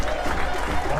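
Applause from a stadium crowd at a Guaraní versus Alianza amateur regional football semifinal as a substituted player leaves, a steady, dense wash of clapping and crowd noise with no clear break.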